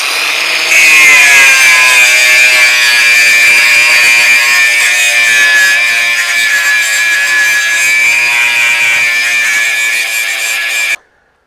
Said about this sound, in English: I'll just grind them down now.